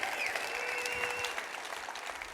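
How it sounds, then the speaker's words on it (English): An indoor audience applauding mothers at a Mother's Day church gathering, a dense burst of clapping that is loud at first and then slowly tapers, with faint voices and a brief whistle in the crowd. "Give them one more round of applause,"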